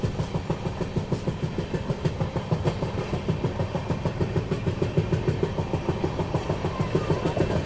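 The Gorakhpur Vadodara special train rolls along with a steady rumble and a regular clickety-clack of wheels over rail joints, heard loud and close from inside the moving carriage.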